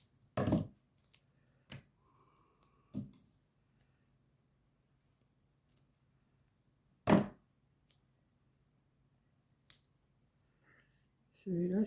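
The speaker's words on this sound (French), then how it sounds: "Je vais recouper un petit morceau que je vais couper en deux." Scissors snipping a small piece of paper in two for a scrapbooking project, a few sparse, crisp cuts spread over quiet, close and fairly faint, with a brief voice at the end.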